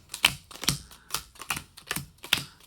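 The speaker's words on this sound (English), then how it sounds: "I'm going to start putting the cards into 4 piles" Playing cards dealt one by one into four piles, six crisp, evenly spaced snaps of card on card at a quick, steady rhythm, close and clear with no talking.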